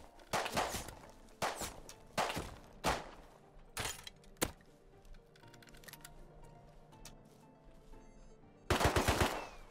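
A turret firing in an online survival video game on a crowded server: several sharp bursts of rapid automatic gunfire with quieter gaps between, then a final loud burst near the end.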